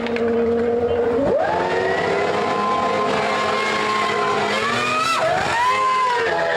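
Formula One cars at the 2000 British Grand Prix roar continuously and loudly at close range, with engine pitch sweeping up through the gears and dropping sharply at two gearshifts or passes.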